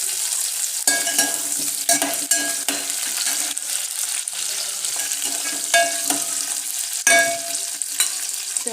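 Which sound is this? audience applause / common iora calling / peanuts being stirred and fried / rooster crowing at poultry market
peanuts being stirred and fried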